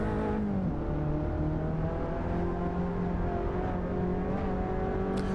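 Steady droning engine of a front-wheel drive race car in Assetto Corsa, with a diesel-like tone, holding a low, even pitch with a slight dip and rise, close and continuous with no talk.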